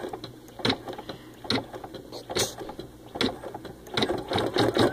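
An Ellure Plus embroidery machine stitching a photo design, a close, steady mechanical chatter of rapid needle strokes with rhythmic clunks and whirring, running alone without talk.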